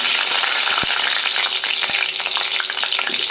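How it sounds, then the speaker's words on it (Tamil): Mustard seeds frying in hot oil for tomato chutney give a loud, steady sizzle with sharp crackling pops scattered throughout. "எண்ணெய் காஞ்சோன்னா கொஞ்சம் கடுகு போட்டுடலாம்"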